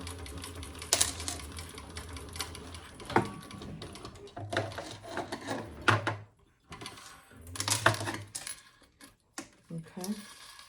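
A sewing machine chain-stitches a Gemella wallet in short mechanical bursts separated by pauses, close and moderately loud, with brief quiet handling gaps.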